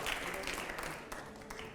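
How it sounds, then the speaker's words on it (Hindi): Faint, distant audience applause from a crowd at a televised political interview event, a brief steady wash of clapping. "जोरदार तालियां हो अगले सवाल से पहले, जोरदार तालियां"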